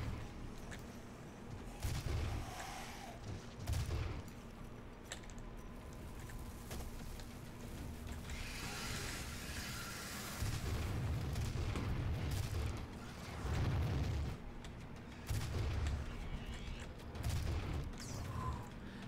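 Gunfire in Doom: repeated heavy shots and booming impacts arrive in clusters over a steady mechanical game hum, loud bursts separated by quieter stretches.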